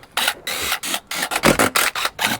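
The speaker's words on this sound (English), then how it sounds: "You can use a ratchet or a Ugga-Dugga gun. Let's go ahead and get those loose." A hand ratchet with an 8mm socket loosens bolts on a CFMOTO clutch cover, giving a quick, regular series of sharp clicking bursts, close up and alone with no voices.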